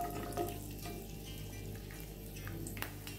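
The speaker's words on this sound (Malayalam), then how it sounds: "ആദ്യം തന്നെ നമുക്ക് തേങ്ങാക്കൊത്ത് ഒന്ന് വറുത്തെടുക്കാം." Coconut pieces fry in ghee with a soft, even sizzle, faint and steady throughout, with a few light stirring clicks.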